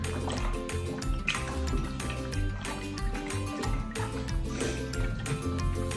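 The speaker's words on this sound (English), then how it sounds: "now I'm going to mix in the sugar and make sure that it gets mixed in really, really well" Sugar being stirred into kombucha tea with a plastic Rubbermaid utensil, a steady liquid swishing and dripping texture with light clinks, close and continuous, no talking.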